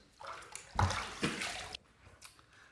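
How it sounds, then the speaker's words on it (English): A shaving razor is rinsed under a running tap, with a close burst of splashing water that swells and then cuts off, followed by faint drips and handling sounds after the flow stops. "All right, that's the first pass done. Let's rinse."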